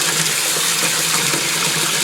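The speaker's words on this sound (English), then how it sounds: "So I'm going to fill up both sinks because I want to show you something" Tap water runs steadily into two kitchen sinks, a continuous even gush of filling water with no voices.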